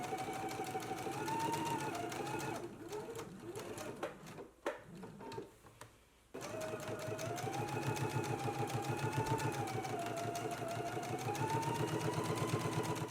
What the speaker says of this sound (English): we're going to do a 1/4 inch top stitch